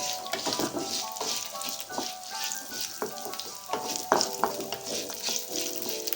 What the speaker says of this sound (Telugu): సో మరొక 20 సెకండ్లు ఇలాగే లో ఫ్లేమ్లోనే వేయించుకుందాం